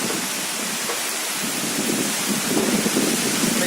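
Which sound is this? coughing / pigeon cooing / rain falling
rain falling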